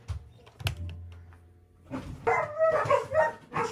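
Dogs bark and whimper in the early morning: a few sharp yips and barks up front, then a longer stretch of whining and excited whimpering close by.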